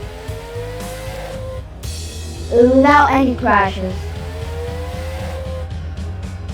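A race car in a racing video game drifts through a turn, its tires squealing loudly in a swooping burst over a steady engine hum while someone talks over it.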